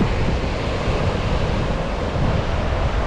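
Steady, loud broadband rush of ocean surf along the shore at Acadia National Park, continuous without pause and mixed with wind buffeting the microphone.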